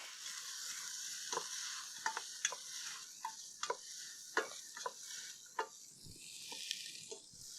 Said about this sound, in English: You chop garlic. Put that in there. Give it a good stir.